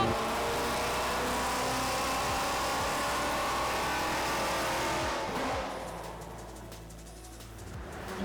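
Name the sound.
project car engine revving loudly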